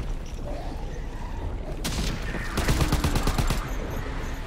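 Call of Duty WW2 Zombies gunfire starts after a quiet, rumbling opening, then breaks into a dense, rapid burst of close shots lasting about two seconds.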